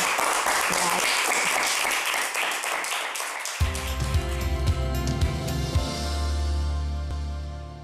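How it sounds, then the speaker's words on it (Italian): Enthusiastic applause from an Italian TV studio audience fills the first few seconds, then music swells in and plays over the clapping. "applausi, applausi, applausi"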